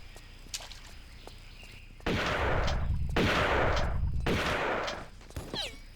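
Enemy gunfire in a Tomb Raider custom level set in an Incan ruined city: a few faint clicks and footsteps, then three loud sustained bursts of close automatic fire, separated by short gaps.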